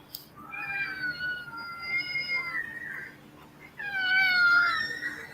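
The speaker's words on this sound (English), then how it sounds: "I want to hear this cat that meows like little kids." A cat in a TikTok clip played back on a device gives two long, wavering, child-like meows with a short pause between them, the second one louder, with a faint background hum.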